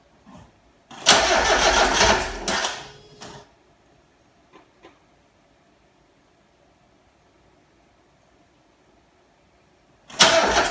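Mazda MX5 engine on a standard ECU and injectors cranking and catching roughly for about two seconds, then cutting out into near silence with a couple of faint pops, before firing loudly again at the very end.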